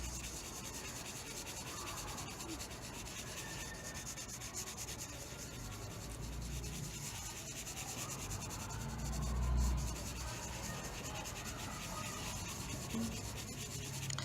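A pencil lightly shading a value scale on paper gives a steady, soft rubbing scratch that runs continuously and close up, with no one talking.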